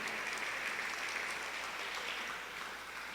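A church congregation applauds the Lord during a sermon, a steady, dense wash of clapping that fills the room evenly and tapers only slightly toward the end.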